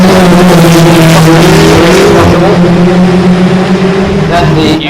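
Historic Formula Ford race cars roar past at Cadwell Park's mountain section during a 2015 race, with loud, sustained engine drone, rising pitch and a brief tyre squeal, while a commentator talks over the noise.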